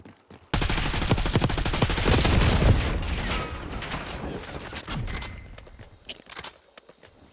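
Dense bursts of automatic gunfire and rapid shots crackle in a Call of Duty match, loud and sustained for several seconds before thinning into scattered pops and clatter near the end.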